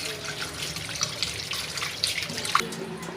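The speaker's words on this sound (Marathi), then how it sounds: "आता मी यांना स्वच्छ धुवून घेणार आहे" Flattened rice (poha) is rinsed in water for Malvani-style kanda pohe, giving soft splashing, trickling and occasional drips close to the microphone.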